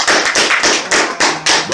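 Audience applause breaking out in loud, rhythmic bursts, roughly five surges of clapping close to the listener, honoring the 400 Years of African American History Commission Act.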